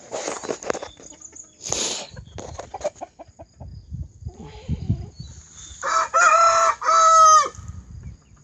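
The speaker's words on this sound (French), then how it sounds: "Ça c'est mon coq Brahma." A Brahma rooster crows loudly and close by near the end, after a stretch of mixed clucking and farmyard bird noise.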